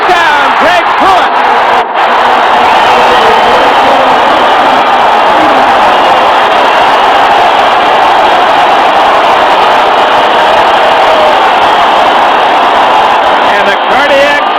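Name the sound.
football stadium crowd cheering after Cleveland Browns touchdown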